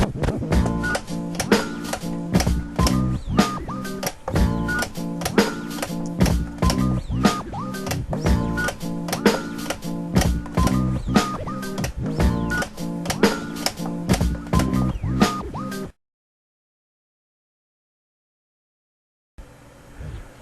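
A choppy, rhythmic turntable beat juggle on two decks, with repeated stuttering drum hits and cut-up phrases, played loud for about fifteen seconds, then silence before it briefly resumes.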